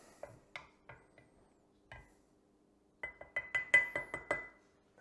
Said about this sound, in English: We'll give that a good stir.